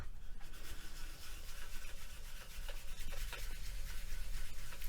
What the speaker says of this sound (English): Give this a really good burnish.